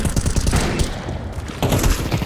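Counter-Strike 2 gunfire in an arms race match: rapid, loud automatic shots in two close bursts separated by a brief pause.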